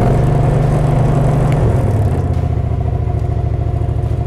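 Loud, close engine of a ride-on smooth drum roller running right after a key-and-choke start, a rough, even chugging rumble that shifts slightly in pitch partway through.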